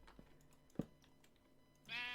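A sheep in the Minecraft video game lets out a single short bleat near the end, after a stretch of soft game clicks and footsteps, all at low volume.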